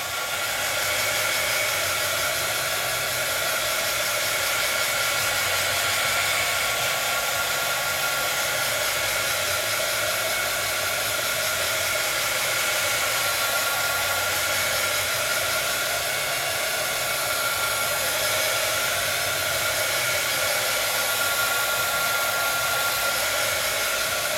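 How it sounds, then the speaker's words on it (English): A Zap heat tool blows hot air over a stenciled texture on a mixed-media handheld mirror, a steady, loud whooshing roar like a hair dryer that runs unbroken for the whole stretch with no talking. "Again, I'm using my Zap heating tool."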